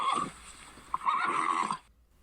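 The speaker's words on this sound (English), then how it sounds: "now I'm upsetting the horses" Horses neighing and whinnying from a scene in the 1994 film Wolf, one short call followed by a longer, wavering whinny, fairly close and clear with no talking over it.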